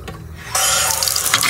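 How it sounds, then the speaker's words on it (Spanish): Tap water starts gushing into a sink for washing, quiet at first, then a sudden steady loud rush of running water. "Entonces le vamos a poner agua"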